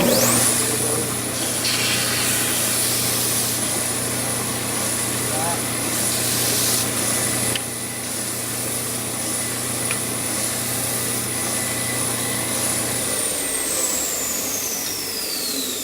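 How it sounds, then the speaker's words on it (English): Power sander running steadily for the whole stretch, a loud continuous motor drone with a high whine that winds down near the end as pieces of a tumbler project have their edges sanded off. "We'll just hit them on the sander."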